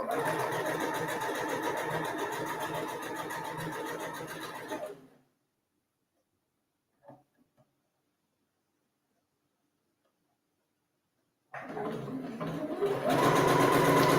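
A sewing machine runs steadily, stitching the tie of a wrap skirt, then falls silent for several seconds before starting up again loud and close.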